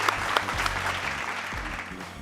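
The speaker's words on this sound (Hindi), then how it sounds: "बहुत सारी तालियां" Steady studio audience applause at a comedy talk show, a dense wash of clapping from a crowd that carries on evenly for a couple of seconds, with a low hum underneath.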